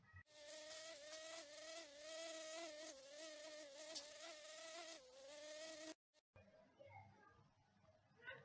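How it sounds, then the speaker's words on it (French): A housefly buzzes loudly and close for about six seconds in a steady droning whine, then cuts off abruptly, leaving faint background noise with scattered soft sounds. "Au revoir la mouche."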